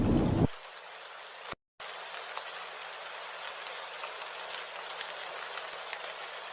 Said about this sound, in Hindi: हरी की पुकारें बारिश की आवाज में डूब जाती हैं।